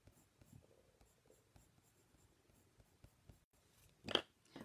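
Green watercolor pencil rubbing across paper, a soft, quiet scratching that comes in faint repeated strokes, with one louder scrape near the end.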